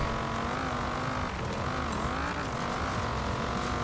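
A car from Forza Horizon 4 driving over dirt and rocks near Needle Climb, its engine a steady, loud drone with slight pitch wavering throughout, no talking.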